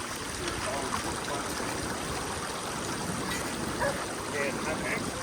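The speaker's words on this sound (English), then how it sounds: "the water flows out of the creek" Water flows and trickles steadily in a creek over bedrock after storms, a constant close rushing wash with faint gurgles, no voices.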